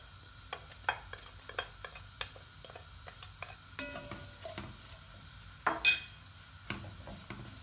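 Onions go into a pot of cooked salt cod and potatoes being prepared for bacalhau à Gomes de Sá, followed by intermittent utensil scrapes and clinks over a faint, steady kitchen background.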